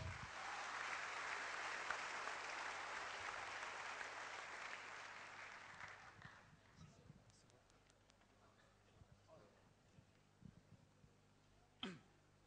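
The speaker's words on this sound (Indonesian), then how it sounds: "Beri tepuk tangan Anda." Audience applause at a business opportunity presentation in Jakarta, a broad wash of clapping that fades out over several seconds, leaving a quiet room with a few small knocks and a brief sharp sound near the end.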